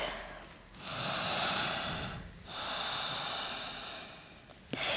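Slow, deep yoga breaths during a vinyasa flow, close and soft: a long inhale, a short pause, then another long drawn breath through the nose, ending with a small sharp exhale.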